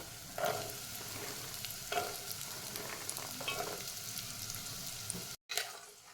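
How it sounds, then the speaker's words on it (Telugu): Beetroot pieces fry in a tablespoon of oil in a pot on the stove, giving a steady close sizzle with scraping stirs now and then and a brief silent gap near the end. "ఇందులో వన్ టేబుల్ స్పూన్ ఆయిల్ వేస్తున్నానండి ఇందులోనే బీట్రూట్ ముక్కల్ని వేసుకోవాలి"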